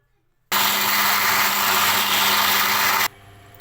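A mixer grinder grinding curry masala with added water starts abruptly, whirs at a loud, steady high pitch for about two and a half seconds, then cuts off to a low residual hum.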